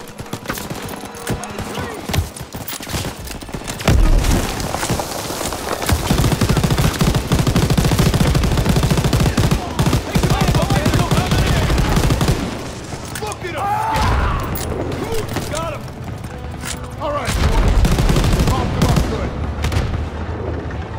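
Machine gun fire in Call of Duty WWII, loud sustained bursts layered over a dense wall of battle noise and explosions, with brief lulls between volleys.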